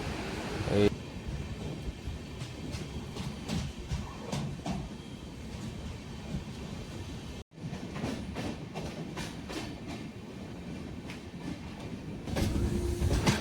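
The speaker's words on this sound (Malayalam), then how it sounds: "ഇപ്പം ഒരു വലിയ തുരങ്കത്തിലൂടെയാണ് ഈ വണ്ടി പോയിക്കൊണ്ടിരിക്കുന്നത്" A passenger train on the Konkan railway through Maharashtra rumbles steadily through a long tunnel, a dense, continuous roar with rhythmic wheel clacks and one brief dropout partway through.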